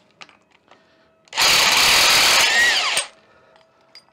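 A loud power tool, most likely an impact wrench, runs in one steady burst of about one and a half seconds while removing the 30 mm front pulley from a seized VW Beetle engine. The burst rises sharply out of near silence and stops abruptly.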